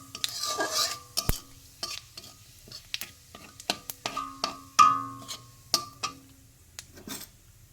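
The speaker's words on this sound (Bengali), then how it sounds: "একটু নেড়ে চেড়ে ভেজে নেবো" Whole cumin seeds fry in oil while a utensil stirs them, giving a string of sharp scraping clicks and knocks against the pan over a light sizzle.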